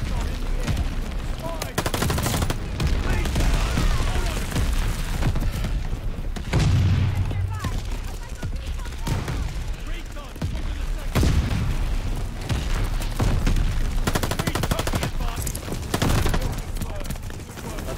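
Rapid gunfire and repeated booming explosions from a Call of Duty Vanguard multiplayer match, loud and nearly continuous throughout, with a voice talking over the battle noise.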